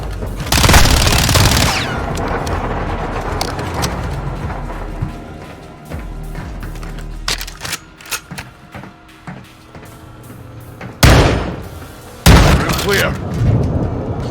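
Gunfire in the Call of Duty Modern Warfare 2 campaign, with loud bursts of automatic fire and heavy blasts sounding close. Some bursts are short and others rattle on longer, and voices shout over the shooting.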